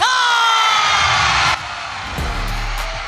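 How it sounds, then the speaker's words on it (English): Arena crowd roaring and cheering after a unanimous-decision win at a One Friday Fights Muay Thai bout, a loud dense swell that drops partway through, with faint shouts and a low rumble continuing beneath. "And Avatar does it, and the crowd goes wild."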